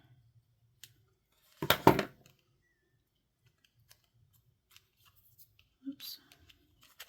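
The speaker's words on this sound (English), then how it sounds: "I'm going to go ahead and trim this off. Just doing the corners there." Paper craft shaker tag corners get trimmed with scissors: a close, crisp cluster of snips early on, then a couple of faint small clicks in a quiet room.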